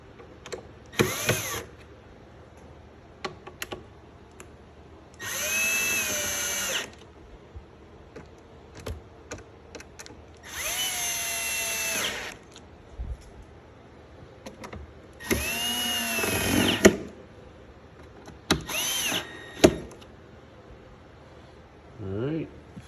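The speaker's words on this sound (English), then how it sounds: "just gotta tighten up these screws" A power drill tightens screws on a Marshall DSL40C amp head, with four or five loud whirring bursts of one to two seconds each, separated by quieter handling noises and brief pauses.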